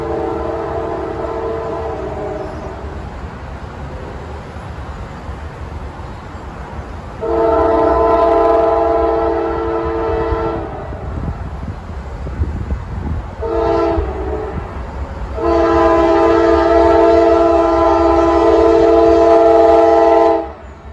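A Norfolk Southern freight train passes nearby, sounding long, loud blasts of its multi-tone horn in several bursts over the continuous rumble of the rolling train.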